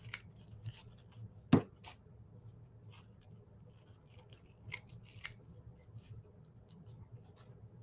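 Scissors snip a paper ephemera banner in a few crisp cuts, one sharp close snip standing out, with quieter paper rustles and light handling noises between them and a low steady room hum underneath.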